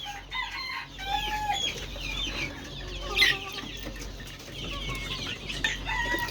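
Five-month-old farm roosters held for sale cluck and squawk close by, with repeated overlapping calls from several birds and a sharper cry near the middle, over a steady low farmyard hum.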